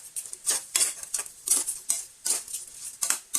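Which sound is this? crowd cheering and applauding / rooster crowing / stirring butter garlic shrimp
stirring butter garlic shrimp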